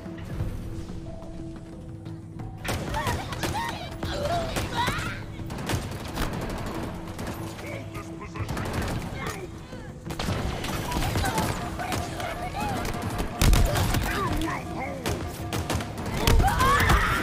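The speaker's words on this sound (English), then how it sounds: "Ooh, I had three shooting at me." Sustained video game gunfire from several shooters rattles on in dense, overlapping bursts and thumps for the whole stretch, loud and close, with players talking over the shooting.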